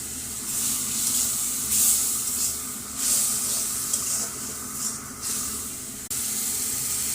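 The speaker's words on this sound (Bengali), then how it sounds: "মশলা কষানোর জন্য অল্প করে পানি দিচ্ছি।" Water is poured into turmeric, chili, cumin, coriander and salt frying in a pan, giving a steady broad sizzling hiss with brief louder spurts through the middle and a short drop near the end.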